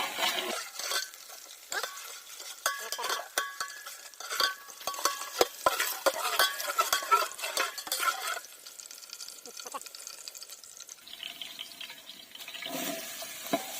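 Curry leaves sizzle and crackle in a hot pan while being stirred for an egg fry, with scraping clatter of the spoon and soft hissing throughout, fairly faint and close.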